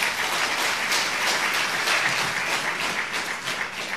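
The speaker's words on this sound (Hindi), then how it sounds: "एक बार ताली जरूर बजाओ।" A crowd at a religious gathering abroad applauds loudly and continuously, dense clapping from many hands that stays steady for a few seconds with no talk over it.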